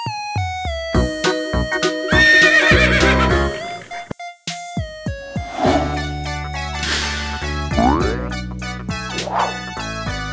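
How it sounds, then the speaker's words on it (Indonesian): A horse neighs and whinnies in a children's animal-sound guessing game, several loud close whinnies over bright background music. "Kuda."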